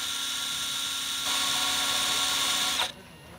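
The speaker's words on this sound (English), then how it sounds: "continue drilling these rivets out" Power drill boring out old rivets from the metal skin of a vintage warbird, a steady high whine that holds without pause, rises slightly midway, then cuts off near the end.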